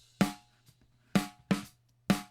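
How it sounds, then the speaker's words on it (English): Four sharp snare drum hits from a mix of a track, each with a punchy boosted attack and a fast clipped decay, spaced irregularly and heard alone. "So this has just got a load of front end attack being pushed through it, and then just a really quick duck in the decay of it"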